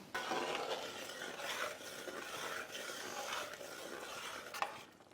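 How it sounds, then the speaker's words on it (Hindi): Chicken being stirred in gravy in a pot, soft repeated scraping sweeps with a faint bubbling sizzle beneath, fairly quiet and rhythmic, ending with a brief clink. "अब अच्छे से चला लेंगे।"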